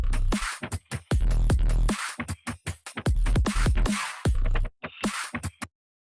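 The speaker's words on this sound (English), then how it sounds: "Really thick snare." Thick, heavy snare drum in an electronic beat, with punchy hits over deep kick thumps in a steady driving pattern, loud and dense, ending abruptly with no talking.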